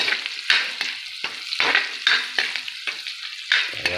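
Onions fry in a pan for fried rice, a loud close sizzle broken by repeated stirring scrapes in an uneven rhythm, with no voices.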